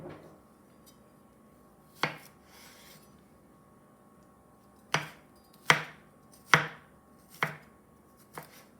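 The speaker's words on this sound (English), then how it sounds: "I'm just going to do a rough chop" Knife chopping peeled garlic cloves roughly on a board: a single chop, a pause, then a run of five sharp, close thwacks at uneven intervals over a quiet background.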